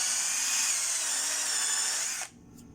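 A Mitsushi 12V cordless drill driver spins at full speed with a loud, steady high whine for over two seconds, then cuts off abruptly, leaving quiet room tone.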